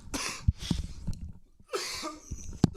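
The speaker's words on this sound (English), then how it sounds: "Those coughs are going to happen here and there because I'm dying." Several harsh, hacking coughs from one ailing man, in two clusters with a gap between them, close to the microphone with some breathing in between.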